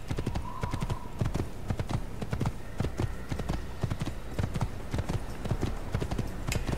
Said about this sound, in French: J'ai repris le cheval noir.